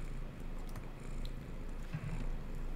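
Cat purring close by in a steady, low rumbling drone with a rhythmic pulse, heard alone while a video game plays quietly in the background.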